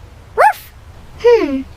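Two short, high yips from a small dog, spaced about a second apart, close and clear against a quiet background.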